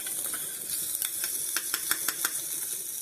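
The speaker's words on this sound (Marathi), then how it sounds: "बघा आपली काळजा ना फ्राय झालेली आहेत मस्तपैकी" Fish liver frying in a pan gives a steady close hiss with scattered crackles and pops growing busier toward the middle, no voices over it.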